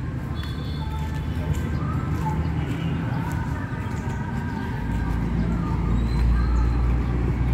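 A family car on the drive home gives off a steady low road and engine rumble inside the cabin that grows slightly louder near the end, with faint bird-like chirps above it.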